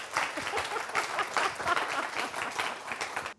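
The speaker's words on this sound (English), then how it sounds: "Applause." Audience applause after a talk on design: a dense, steady wash of clapping for about three seconds that stops abruptly.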